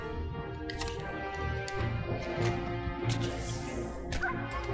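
A dog barking repeatedly in Fallout 4, short yips and woofs mixed into busy game sounds and music, fairly close.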